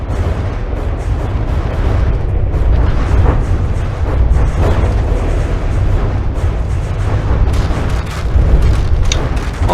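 Bombs falling and exploding in the naval combat game From the Depths, a steady barrage of dull booms and rumbling blasts that keeps going throughout without pause, loud and dense, with no voices over it.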